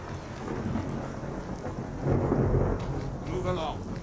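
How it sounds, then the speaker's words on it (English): Rain falls steadily in the Skyrim video game while thunder rumbles low and close, swelling in the middle, and a brief voice or tonal sound surfaces near the end. "it's always raining in Skyrim."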